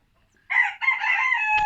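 A hen that has just laid an egg lets out a loud, drawn-out squawking call, close by, rising suddenly out of silence and holding for about a second.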